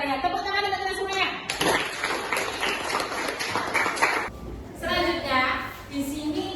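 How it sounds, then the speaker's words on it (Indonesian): Classroom applause from students during a lesson, a burst of fairly close clapping lasting a few seconds, with a teacher's voice speaking before and after. "Tepuk tangan untuk kita semuanya."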